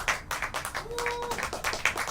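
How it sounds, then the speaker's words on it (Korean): Small audience at a tent café culture evening clapping to welcome a performer, a light, sparse patter of hands from a few people, fairly faint and close. "뜨겁게 한번 박수로 환영해 주세요."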